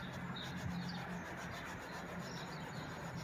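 A medium-grade clay wash mitt rubs steadily across a car's painted panel to lift rail dust, a close, soft continuous scrubbing with no talking.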